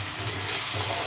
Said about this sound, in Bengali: একটু টমাটার আর পেঁয়াজটা ফ্রাই করে নিতে হবে